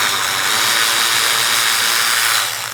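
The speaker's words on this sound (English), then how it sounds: "I can get the electric ratchet on it" An electric ratchet whirs steadily and loudly, close up, as it loosens a bolt on the AC compressor of a Nissan Sentra, then winds down at the end.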